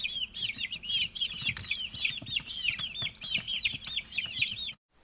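Chicken clucking in a steady run of short, bright calls repeated over about five seconds, close and fairly loud, ending abruptly in silence.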